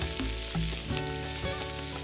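Masala with cashews frying and being stirred in a pan for paneer Kolhapuri, a steady close sizzle with a few soft stirring knocks and no talking.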